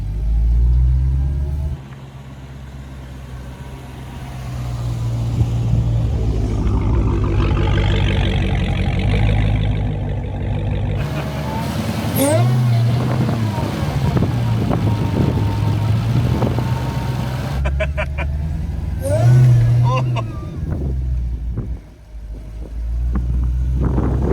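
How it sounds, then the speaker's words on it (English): A crash-rebuilt Dodge Hellcat SRT's powerful engine drones and roars up close while driving with no doors or windscreen, rising in revs and surging with wind noise, no talking. "Nothing like driving a Hellcat round with no doors on, no windscreen"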